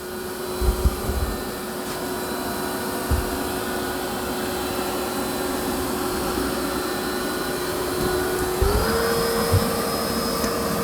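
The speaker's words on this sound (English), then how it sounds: "Now it's going to go into its vacuum and mop." A Dreame X60 Ultra robot vacuum runs continuously while vacuuming and mopping, a steady close whirring drone with a tonal hum that shifts upward near the end, plus a few soft bumps, with no talking.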